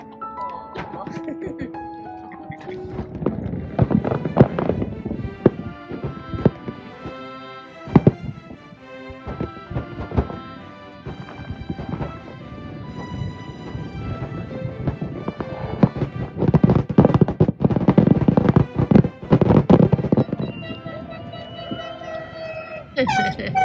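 Fireworks show over boats anchored near St. Michaels at night, with scattered booms and crackling bursts, some near and some distant, heard under ongoing conversation.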